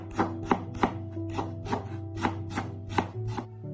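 A knife slicing peeled ginger into thin slices on a cutting board, about ten crisp, evenly spaced chops in a steady rhythm, close and clear with no talking.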